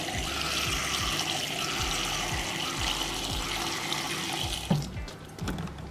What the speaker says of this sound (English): so you just pop the water in here